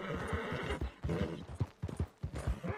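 A horse in Red Dead Redemption 2 on PS4 whinnies loudly while its hooves clop at a quick pace, the neigh and footfalls close together in a short burst.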